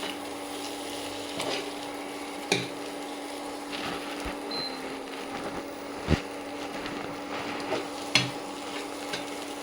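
Chilli egg and fried vegetables being slowly stirred in a pan, a gentle sizzle under soft, intermittent scrapes and a few sharper knocks of the spatula against the pan, fairly quiet with no talking.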